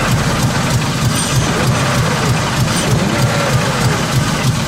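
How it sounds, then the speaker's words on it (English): A misfiring BMW car engine running steadily close by, a low, rough, uneven rumble with irregular pulsing, continuous and loud throughout. "That is not how a car engine should sound."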